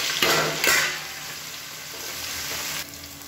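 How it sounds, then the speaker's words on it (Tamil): Chopped onions sautéing in a pan with garlic and green chillies for a fish curry (meen kulambu), a steady close sizzle broken by two brief loud stirring scrapes early on. "இப்போ வெங்காயம் ஓரளவுக்கு வதங்கிட்டு இருக்கு"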